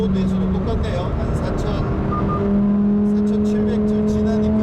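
A Lamborghini Huracan STO engine drones steadily in STO mode, its pitch rising partway through as the revs climb. The engine is loud and continuous beneath someone talking inside the car.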